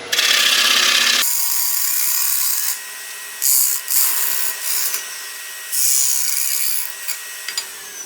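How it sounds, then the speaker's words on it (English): A tool rasps into walnut wood to cut deep grooves, a loud continuous grinding scrape that stops and restarts in several shorter bursts, with no one talking. "I'm gonna see if I can't cut me some pretty deep grooves"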